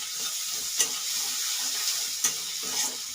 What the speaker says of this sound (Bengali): ক্যাপসিকামও দিয়ে দিয়েছি, ভালো করে নেড়ে নেবো।